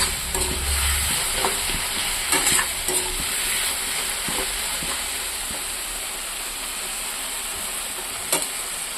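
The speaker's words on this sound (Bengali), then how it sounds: "এটা আমি এরকম করে ভাজতে থাকবো, এটাতে জল দেব না।" Steady sizzling of tomatoes frying in a pan without water, with occasional scraping clicks from stirring; continuous and fairly close, no voices.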